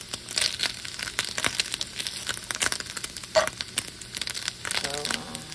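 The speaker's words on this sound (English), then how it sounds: "Like my bacon crispy" Uncured turkey bacon crisping in a pan, a steady crackling sizzle with scattered pops and stirring scrapes close up, running under the room noise with no one talking.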